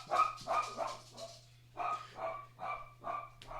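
Dog barking in a quick run of yappy barks, a pause, then another string of barks, moderately near, with no talking.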